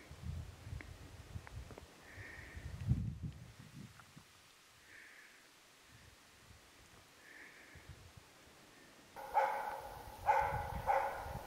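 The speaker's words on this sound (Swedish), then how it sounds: "Här har vi en tik som skäller ståndskall på en större tjur" A Jämthund hunting dog bay-barks at a large bull moose, sparse spaced calls at a distance over soft outdoor noise, then a few closer, louder barks near the end.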